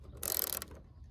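A ratchet wrench works a roof rack bolt on a Toyota 4Runner TRD Pro, giving one short burst of rapid metallic clicks, close and fairly quiet, with no voices.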